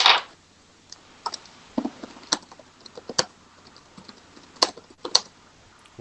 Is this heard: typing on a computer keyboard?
yes